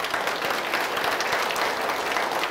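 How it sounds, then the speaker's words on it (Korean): Steady, dense applause from a church congregation during a Sunday worship service, loud and sustained throughout with no voices rising above it. "박수로 영광 돌립시다."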